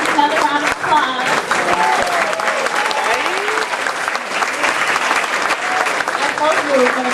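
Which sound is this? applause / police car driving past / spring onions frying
applause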